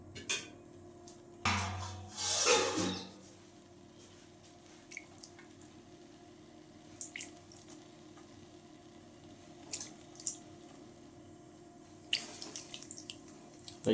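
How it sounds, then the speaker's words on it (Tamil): Water is sprinkled onto brain fry cooking in a pan, giving a sharp hissing sizzle burst early on, then quieter frying with faint utensil clinks and drips, and another hiss near the end, with no voices. "தண்ணி ஊற்றுறதுக்கு பதிலாக தண்ணி தெளிச்சுக்க போகிறோம்"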